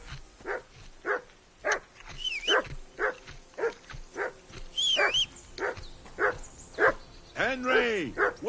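Dog in the video game Kingdom Come Deliverance 2 barking repeatedly in a steady rhythm of loud, close barks, with a few whines and howling yelps toward the end.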